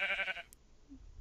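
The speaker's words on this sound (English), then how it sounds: "Oop, sheep eating something." Sheep bleating in the video game Minecraft, one short nasal bleat heard clearly and alone near the start, followed by a quiet low rumble.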